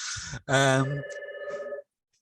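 An office telephone rings in short electronic bursts with a brief pause between them, clear and close, then cuts off into silence.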